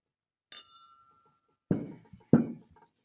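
A clear crystal glass clink rings out with a lingering tone, followed by two duller taps and brief rattles, quiet and close in an otherwise silent room.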